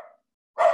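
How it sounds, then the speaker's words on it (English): A small dog barking faintly in the background of an online meeting: one short yip, a pause, then a louder sharp bark. "I think we have like a little dog at the background"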